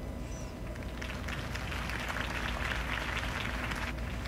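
A crowd applauds after a campaign speech for Harvey Dent in a Batman game, a soft, distant wash of many hands clapping over low background rumble.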